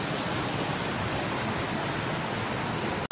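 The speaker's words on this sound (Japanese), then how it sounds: "あそこからちょっと滝みたいに流れてるでしょ。" Small mountain stream tumbling down like a little waterfall at a hillside spring near a trailhead, a steady, dense rush of water heard close and continuous, alone, with a brief clunk at the very end.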